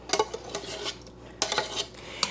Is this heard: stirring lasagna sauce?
yes